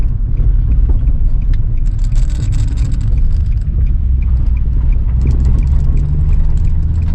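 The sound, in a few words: Nissan 350z manual car turning into driveway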